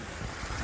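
Water from a small waterfall spills over flat stones on a Carrbrook walk, a steady, close rushing wash with no voices.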